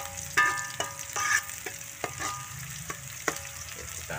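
Sardines sizzle steadily in a pan, with a string of sharp scraping stirs from a spatula cutting through the frying hiss at a close, moderate level.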